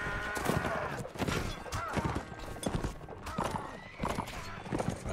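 Horses gallop in Mount & Blade in a rapid, close clatter of hooves with whinnies and the noise of a melee mixed in, going on steadily for the whole stretch.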